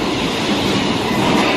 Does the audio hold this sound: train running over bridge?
yes